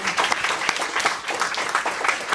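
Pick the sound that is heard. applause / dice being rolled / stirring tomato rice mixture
applause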